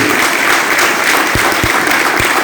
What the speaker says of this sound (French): Un bel applaudissement pour les musiciens et Maestro Jacques.